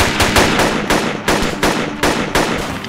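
Rapid automatic gunfire in the video game ARMA 2 Project Reality, loud and close, with bursts of shots repeating roughly every third of a second and no talk over them.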